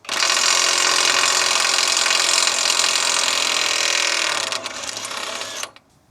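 Cheap cordless impact gun running in reverse to undo a nut, a loud continuous rattling hammer buzz held for several seconds before stopping abruptly.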